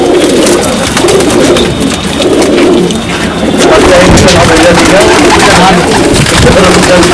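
Madrasi pigeons coo and flutter in a loft in Kotla Mubarakpur, New Delhi, their soft calls close and repeated beneath continuous voices and some background noise.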